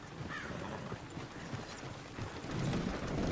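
Horse hooves clip-clop in the Red Dead video game, a busy patter of steps mixed with clanking gear and a brief whinny, growing louder and closer toward the end, with no talking.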